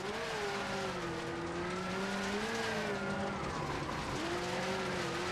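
Rally car racing along a stage in the Richard Burns Rally video game, its engine note wavering continuously as it revs and shifts, with gritty tire and gravel noise underneath throughout.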